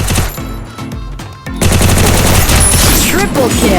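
UMP fire crackles in a shooter video game as loud, rapid bursts of gunfire, near and dense, with a brief lull before a sustained volley.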